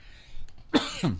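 A single close cough is followed by a rough throat clearing, both sudden and loud against a quiet background.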